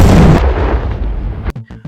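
Afghan artillery cannons thunder suddenly in high mountains at dawn, opening with a loud, heavy boom that rumbles away. Three sharp, short cracks follow in quick succession near the end.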